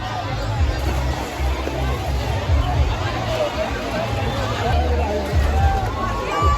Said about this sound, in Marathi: बघू शकता इकडे किती गर्दी आहे